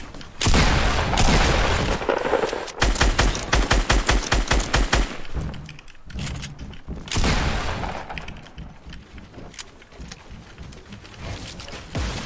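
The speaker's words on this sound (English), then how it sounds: "Oh wait, shotgun fight?" Rapid gunfire from a shotgun fight in Fortnite, with dense bursts of loud shots and booms, a quick rhythmic volley of close blasts in the middle, then a second heavy stretch of sustained firing.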